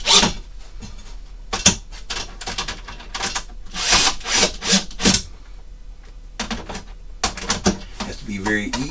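An electric Phillips screwdriver driving screws into wood, loud close bursts of motor whir and grinding in short repeated runs with pauses between.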